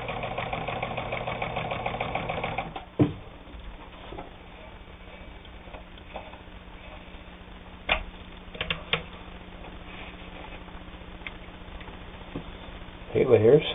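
A Necchi Supernova Ultra sewing machine stitches through eight layers of heavy denim, running with a steady mechanical whir for about three seconds before stopping; a voice then speaks over quiet room noise with a few soft clicks.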